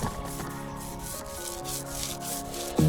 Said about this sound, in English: Maybe just give that a light sand down.